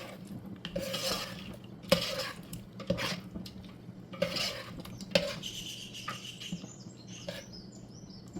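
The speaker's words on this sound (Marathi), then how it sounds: "घाटून घेऊया" A spoon clinks and scrapes against a pot while mutton masala is stirred, giving several sharp metallic knocks at irregular intervals, with faint birdsong chirping in the background.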